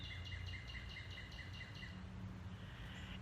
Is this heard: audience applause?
no